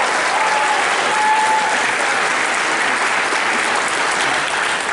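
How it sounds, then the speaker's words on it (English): Audience applause at a high school spring band concert, a dense, sustained burst of clapping from a full crowd that holds steady from start to finish. "Can we please have a round of applause for him for coming tonight, supporting our students?"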